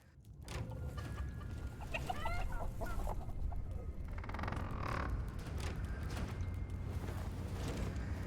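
Chickens clucking in the video game Dungeons 4, a scatter of short, chattering calls over a steady background hum, moderately near and continuing through the clip without talk.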